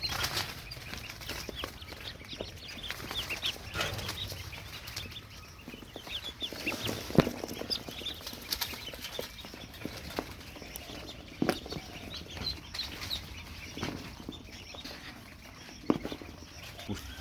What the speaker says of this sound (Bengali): এই যে আমাদের খাকি ক্যাম্বেল হাঁস, এগুলোকে প্রথমে আমরা বোর্ডারের মধ্যে দিয়ে দিচ্ছি।